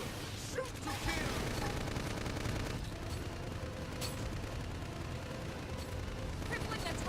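Rapid gunfire in Xenoblade Chronicles X combat, a continuous crackling barrage with occasional sharper shots, kept at a fairly low level in a busy battle mix with voices.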